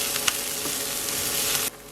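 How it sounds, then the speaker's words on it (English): Chunky pieces of half an onion sizzle steadily in a frying pan, a dense even crackle with a few sharper pops, stopping abruptly near the end. "Pan fry half an onion cut in chunky pieces."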